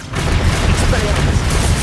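A Bombarda spell explosion in Hogwarts Legacy bursts loud and dense, a sustained rumbling blast with crackling debris filling the short moment amid ongoing combat noise.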